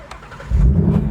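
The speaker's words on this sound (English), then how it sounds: "How are you not excited when this is what happens when you start your 2020 Mustang?" 2020 Ford Mustang GT Premium engine firing up, a brief starter whine then a sudden loud deep roar as the V8 catches, close and prominent.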